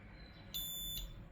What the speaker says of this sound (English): siren beeps once. That turns off the ultrasonic sensors.